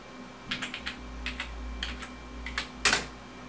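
Quick bursts of keystrokes on a computer keyboard at a Pentium 3 PC, clustered taps with short pauses and a firmer final press, close and clear over a faint steady hum.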